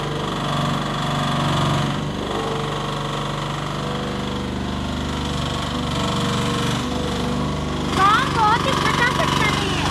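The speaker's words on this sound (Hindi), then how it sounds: "पूरे 15 HP का डीजल इंजन लगाया गया, बहुत ही पावरफुल है जी" A mini excavator backhoe with a 15 HP diesel engine runs at a steady, loud, rough drone throughout, with some higher squeaks and clatter toward the end.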